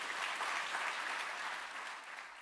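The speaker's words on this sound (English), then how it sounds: "please join me in giving a round of applause and a warm welcome to Associate Professor Kristina Hill" A conference audience applauds as Associate Professor Kristina Hill is welcomed at the 2019 NZILA Firth Conference: steady, dense clapping from many hands, fairly soft and even, tapering slightly near the end, with no voices over it.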